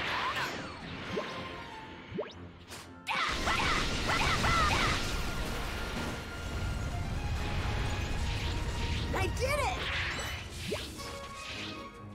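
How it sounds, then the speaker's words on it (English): Big towers being smashed in the video game Dragon Ball Z Kakarot: loud, dense crashing and whooshing impacts, with a sharp break near the start, a brief spoken remark, and sustained heavy destruction noise afterward. "I've smashed 2 of the big towers."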